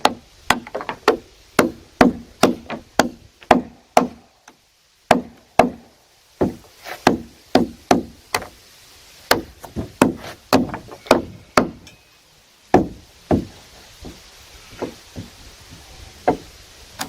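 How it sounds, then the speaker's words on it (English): Loud, sharp knocks as saw-cut wood pieces are struck out of notches in cabin logs, about twenty hollow woody thwacks in an uneven rhythm, close and alone, tapering to lighter taps near the end. "You can knock them out with anything"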